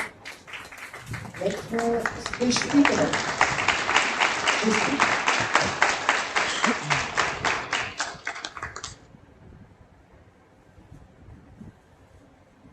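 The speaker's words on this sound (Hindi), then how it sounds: "जोरदार तालियां।" Applause at a nursing students' award ceremony, rhythmic group clapping from a crowd that swells, holds for several seconds and stops abruptly, leaving quiet room tone and a voice.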